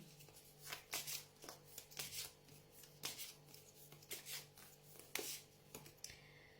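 Deck of tarot cards being shuffled by hand, a series of soft, quick riffling and sliding strokes in an uneven rhythm, close but faint.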